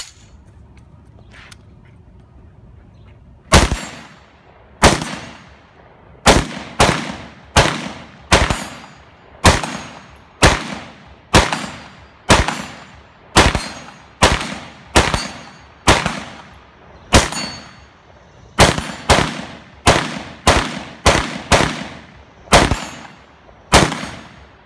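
A PWS MK114 Mod 2 rifle with a compensator muzzle brake fires at steel plates 50 yards away outdoors, about twenty very loud, sharp shots spaced roughly a second apart, each with a short ringing decay.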